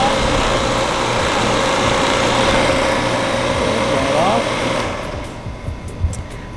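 A vacuum pump evacuates a Trane / American Standard air-conditioner condenser coil, a loud steady mechanical drone that runs continuously for about five seconds, then drops away into quieter handling noise.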